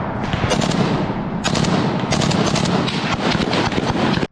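Dense, continuous gunfire crackles and booms in rapid bursts, loud and close, a sustained barrage with barely any gaps during combat between Ukrainian and Russian forces in Luhansk region.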